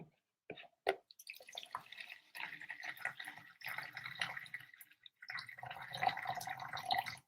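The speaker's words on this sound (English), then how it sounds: "Now we adding our water." Water is poured onto herbs in a container, starting with a few drips and splashes, then a steady, close, fairly quiet pour with gurgling that continues through the whole clip.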